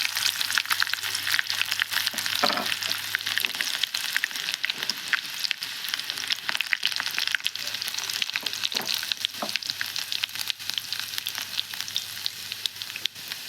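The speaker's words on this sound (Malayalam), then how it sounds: "ചെറുള്ളി അരിഞ്ഞത് നമുക്ക് അതിലേക്ക് ഇട്ട് കൊടുക്കാം" Chopped shallots fry in a pan of hot oil with mustard seeds, a steady bright sizzle and crackle running unbroken throughout, with occasional soft spoon scrapes and no voices.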